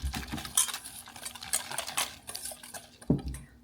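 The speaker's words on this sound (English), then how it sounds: "I'm just going to whisk this together." A whisk clicks and scrapes against a bowl while a maple syrup mixture is stirred, in quick irregular close-up strokes, with one heavier knock near the end.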